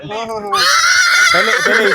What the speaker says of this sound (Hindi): घोड़ा देखो भाई